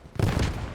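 Gunfire in a World War II Battle of Iwo Jima video game: a sudden loud burst of rifle shots erupts after a brief quiet moment, followed by a ringing, rumbling tail.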